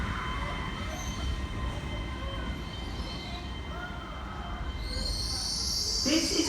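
An LNER Class 800 passenger train, unit 800106, rushes past at speed through Durham, a steady roar of wheels and rail noise that swells toward the end with a high metallic squeal.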